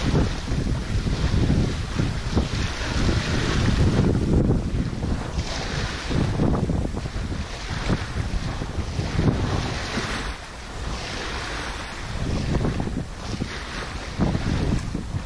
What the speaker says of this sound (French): il y a 12-13 nœuds de vent